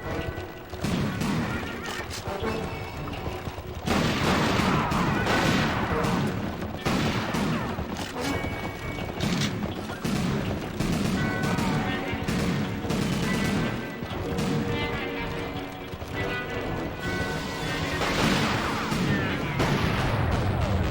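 Gunshots from the video game Western Heroes, a dense and steady stream of loud, crackling shots and impacts running from start to finish. Music plays throughout and there are other game effects, with no pause in the firing.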